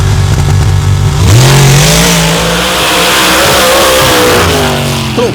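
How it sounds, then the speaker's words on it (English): A 762 cubic inch big block Chevrolet drag racing engine roars at full throttle down the strip, loud and sustained, its pitch climbing steadily as the car accelerates, with no talk over it. "Look at Dunn Savage there with the 762 cubic inch big block Chevrolet"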